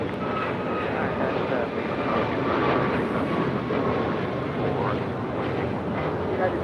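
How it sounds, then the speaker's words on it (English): A brand-new Boeing 737 MAX 9 takes off at LAX, a steady, loud, wide jet roar running unbroken through the whole stretch with talk over it. "That's a brand new 737 MAX 9 just delivered in June, taken off."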